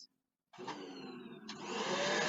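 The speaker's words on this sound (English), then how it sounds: "The vacuum sucks the pill to the legging" Vacuum cleaner with pantyhose or a thin legging stretched over the nozzle, switching on after a brief silence, its motor whine rising and the airflow roaring steadily and loudly, with a shift in pitch midway.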